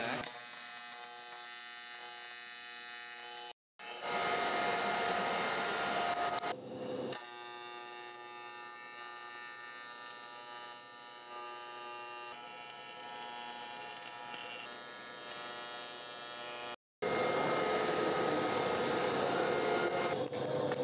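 An HTP welder lays welds on a Porsche GT4 frame rail in a loud, close, steady buzzing hum, arriving in long continuous runs separated by two brief silent breaks, with no clear talking.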